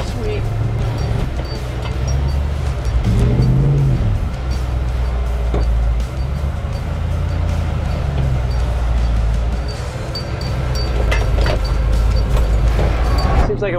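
A 1979 Ford F250 with a Coyote V8 swap and custom 4x4 chassis rumbles steadily over bumpy off-road ground, with a loud low engine drone throughout, scattered knocks and rattles from the rough terrain, and a voice talking over it.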